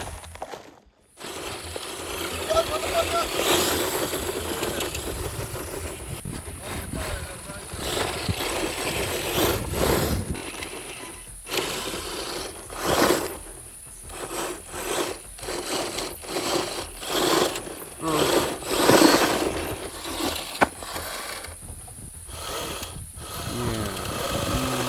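An RC Monstermax monster truck with all-wheel steering and a custom frame drives under power. Its drivetrain whirs and grinds in uneven surges rising and falling with the throttle, continuous and fairly close for about 25 seconds.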